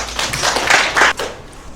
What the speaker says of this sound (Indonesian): kita tepuk tangan dulu gimana?